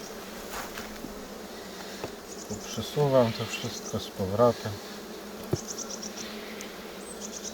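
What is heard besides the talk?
honeybees buzzing in an open hive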